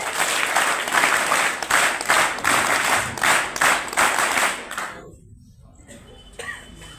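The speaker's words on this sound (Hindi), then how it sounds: "पंच शर्मा, एक बार उसके लिए भी तालियां हो जाए।" Hall audience at an event in Bhilwara, Rajasthan breaks into rhythmic, pulsing applause for about five seconds, then cuts off abruptly to near silence with a faint trailing sound.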